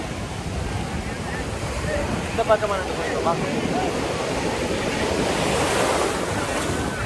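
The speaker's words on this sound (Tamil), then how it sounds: "கொஞ்சம் கடல் உரமாக இருக்கு போல" Rough sea waves surge and wash continuously onto a beach under heavy wind noise, with a person speaking briefly over the steady surf.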